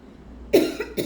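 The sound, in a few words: cough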